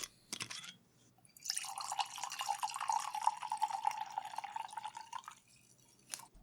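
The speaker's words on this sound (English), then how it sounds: "Let's pour it into the glass and begin talking about it." Sake, a Ryusei Ryofu Nama, pours into a glass in one steady burbling stream lasting a few seconds, close and fairly quiet, framed by soft clinks before and after.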